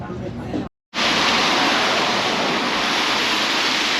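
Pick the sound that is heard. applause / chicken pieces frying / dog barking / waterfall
waterfall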